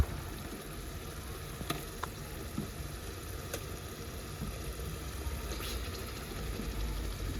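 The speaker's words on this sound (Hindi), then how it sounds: "अब यहाँ मैं कोफ्ते डालना शुरू करूँगी।" About sixteen meat koftas go into hot oil in a pan, giving a faint, steady sizzle with a few soft clicks and pops and no talking.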